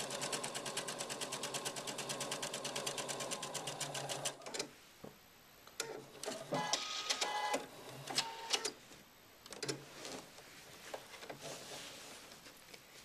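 A Husqvarna Viking sewing machine stitching piping cord runs in a fast, even stream of needle clatter for about four seconds, then breaks into short irregular bursts and clicks as the fabric pivots at the corner.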